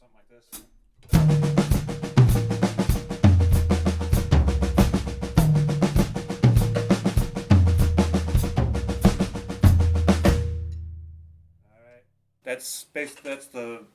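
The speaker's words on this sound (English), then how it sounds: "we got the 7A, which, as you can imagine, is one single followed by three doubles" Drum kit playing a groove built on the 7A sticking, one single stroke followed by three doubles, as dense rapid strokes over deeper tom-like hits for about ten seconds, then fading out as a voice begins speaking.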